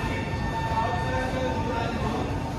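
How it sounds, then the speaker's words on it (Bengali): A train pulls out of the station on a Gangtok trip, a steady rolling rumble with faint squealing tones, heard from inside the carriage with a low murmur of voices. "7:40 বাজে এক্স্যাক্ট টাইমে ট্রেনটা ছেড়ে দিলো"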